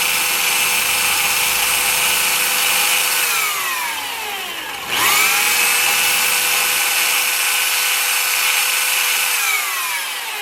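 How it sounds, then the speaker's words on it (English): A belt sander grinds rough burrs off metal edges, its loud whine holding steady, dipping as the motor briefly slows and cuts out near the middle, then spinning back up to full speed and running on. "take my belt sander"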